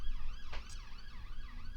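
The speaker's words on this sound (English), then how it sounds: "So there goes a police car." A police car siren wails past on a road right next to the speaker, its rising and falling tone steady but fairly faint over low traffic rumble, with no talking.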